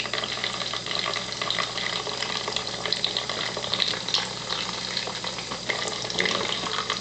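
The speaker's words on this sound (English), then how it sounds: "just water at level 1 pouring." Water pours steadily from an Enagic water ionizer set to level 1. The stream runs continuously and evenly with a bright, hissing splash throughout, and no voices can be heard.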